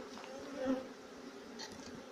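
Honey bees buzz around an apiary hive near a feeder in poor weather, a faint, steady droning hum that swells briefly near the start.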